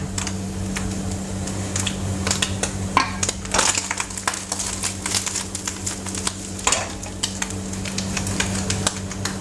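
Food sizzles and crackles in a very hot small frying pan, a steady frying hiss broken by sharp utensil scrapes and clicks, close and fairly loud.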